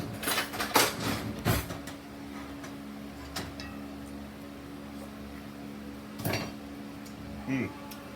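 A spoon clinks against a pot of boiling water during home cooking, a few sharp metallic taps and rattles early on and two more later, close and fairly quiet over a low steady hiss.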